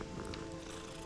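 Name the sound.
cat purring in video game Hogwarts Legacy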